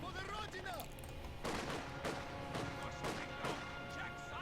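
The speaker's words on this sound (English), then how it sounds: "Sniper will take the first shot and claim a kill." A sniper rifle fires in Company of Heroes 2 amid a busy battlefield, several sharp cracking reports landing roughly every half second over rumbling combat noise, with a voice talking over the action.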